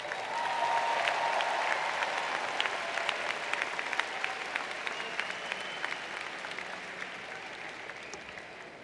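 A commencement audience at a university spring graduation ceremony breaks into sustained applause, dense clapping that fills the hall and holds steady before tapering slightly toward the end.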